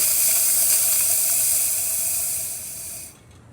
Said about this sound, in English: Nice strong steam.